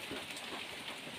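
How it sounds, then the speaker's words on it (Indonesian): Heavy rain heard from under the roof of a small hut during a hunting trip with strong wind: a dense, steady, close patter with no voices. "Dan kita di pondok warga ini berlindung karena hujan."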